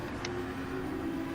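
A race car engine in a racing video game holds a steady, droning high rev for a brief moment, loud and continuous with no break.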